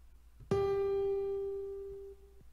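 A single sustained piano note from the game Undertale rings out clearly after a soft knock, slowly fading over about two seconds before cutting off.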